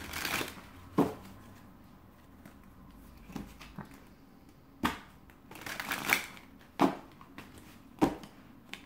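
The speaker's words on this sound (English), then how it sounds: "I'm going to put it back in the deck and see if it comes back out after I'm done shuffling." A deck of tarot cards being shuffled, soft riffling patter broken by several sharp slaps and snaps of the cards roughly every second, close and quiet with no speech.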